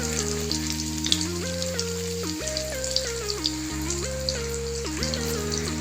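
Food deep-frying in hot oil gives a steady, fine sizzling crackle. Stepped melodic music plays loudly over it the whole time.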